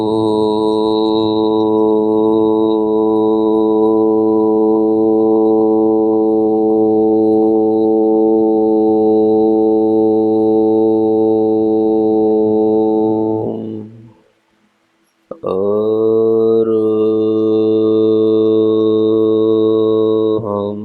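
A long, sustained meditation hum or nada chanted in Arham Dhyan Yog, a loud, steady resonant drone held for about fourteen seconds, a brief breath-like pause, then the hum resumes just as strongly.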